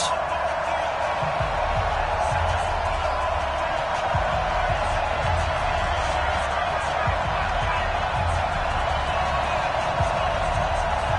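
Stadium crowd roaring in EA Sports Madden NFL before a Washington Redskins versus Green Bay Packers game: a steady, dense wash of cheering and murmur that holds at an even level throughout, with no clear voices on top.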